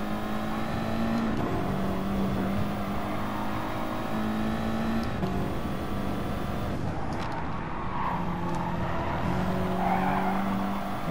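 An Audi TT Gr.4 race car laps Lago Maggiore in the Gran Turismo Sport racing game, its engine droning steadily with gear-change shifts in pitch and tyre squeal, loud and continuous among other cars.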